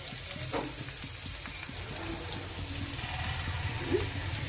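Salt, chili powder, garam masala and turmeric are stirred in a frying pan for an egg curry. A soft, steady sizzle runs under light ticking scrapes of the spoon, fairly quiet and close, with no talking.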